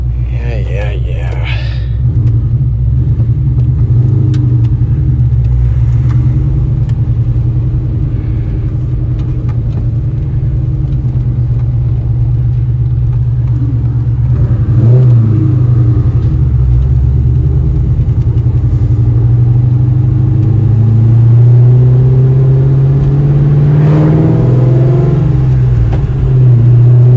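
An overfuelled car engine drones and revs steadily while being driven, a loud low rumble rising and falling with acceleration, with someone speaking over it at times.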